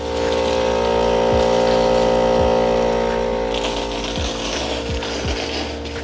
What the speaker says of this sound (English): Water's getting blown through.